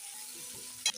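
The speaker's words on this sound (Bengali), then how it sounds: "ভালো করে মিক্স করে দিলাম" Chopped onion, crushed garlic and black cumin sizzle steadily in hot oil, with a single brief scrape of a spoon through the pan near the end.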